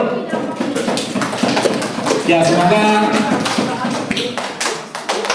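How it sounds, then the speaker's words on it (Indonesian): Classroom applause for a pupils' group, many hands clapping in dense broadband bursts throughout, with a teacher's voice speaking over it and some tonal voices mid-clip. "Tepuk tangan buat kelompoknya Aldo."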